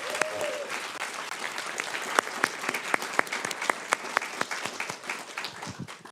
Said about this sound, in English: can we get one big round of applause for our panelists?